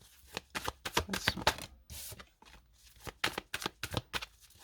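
Tarot cards are handled and laid out in quick bursts of crisp shuffling and slapping, with short pauses between flurries, close and fairly quiet, with no voices.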